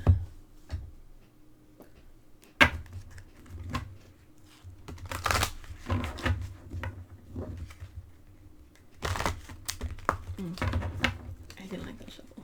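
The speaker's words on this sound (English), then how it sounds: "I didn't like that shuffle." Tarot cards are shuffled and handled in short clustered bursts of crisp riffling and light taps, close to the microphone and quiet in between.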